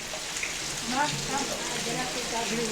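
Steady rain falling for hours, a continuous broadband hiss of drops on surfaces, with faint voices talking underneath.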